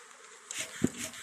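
A short burst of bees buzzing nearby, faint and brief, with a soft knock or tap partway through.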